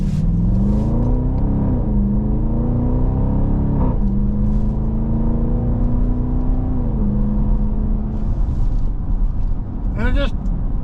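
A 2025 Dodge Durango R/T 20th Anniversary exhaust roaring as the SUV accelerates, engine pitch climbing through rising sweeps with shift drops in between, loud and close, with a voice talking over parts of it.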